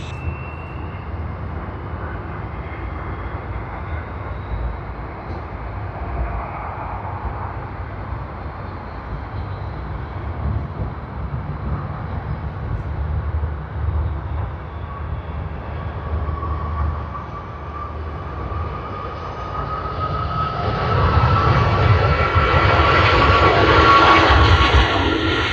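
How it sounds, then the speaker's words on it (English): An airliner begins its takeoff roll on a runway at Sydney Airport, a steady distant engine roar that swells and grows brighter and louder toward the end, with no talk over it. "There you go, the takeoff roll has begun."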